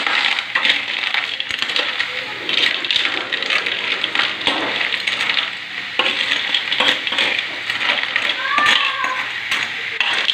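Ginger, garlic and onion sizzle in a pan while being stirred, with a continuous crackling fry and scraping of the utensil against the pan, under a voice talking nearby.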